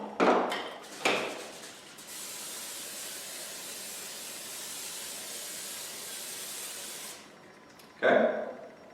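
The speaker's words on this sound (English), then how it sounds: "So you want to make sure that you spray this really good" Cooking spray hisses from a can into a bundt pan in one long steady burst of about five seconds, close by, framed by brief clunks of the can and pan before and after.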